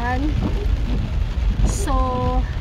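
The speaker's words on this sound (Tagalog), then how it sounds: "Ito ang tinatawag nila na heavy rain." Heavy rain falls in a steady, close rush while a person talks over it, the downpour's broad hiss continuing beneath and between the voice.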